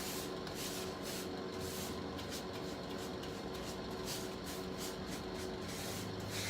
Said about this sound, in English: I love dry brushing.